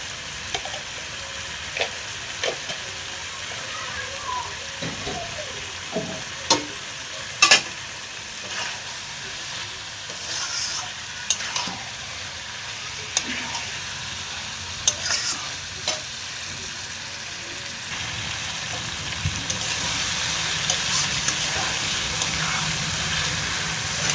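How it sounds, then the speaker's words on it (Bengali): Meat cooking down in a pan with a little sugar added, stirred steadily over a constant sizzle, with scraping clicks from the spoon recurring throughout and the frying growing louder toward the end. "মাংসটা এখানে কষাতে কষাতে অনেকটা নরম হয়ে গেছে"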